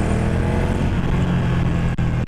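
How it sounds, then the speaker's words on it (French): A Ducati Monster 797 motorcycle engine runs loud and close, a steady, thick low exhaust drone with strong rumbling harmonics that holds without a break and dips briefly near the end. "Après le bruit de la ligne, franchement, il claque."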